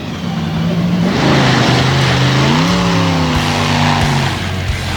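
An off-road race vehicle takes a left-hand corner in a desert race, its engine roaring loud and close, the pitch dipping and then climbing as it revs through the turn.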